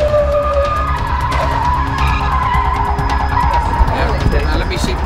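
Hummer tires skid and squeal through a staged movie car chase, engines roaring loudly and continuously up close, with the tire noise cutting in over a dense mix of motor sound and background voices.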